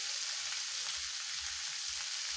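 Samosa spice filling fries in a pan, a steady close sizzle with soft stirring underneath, brief and without talk.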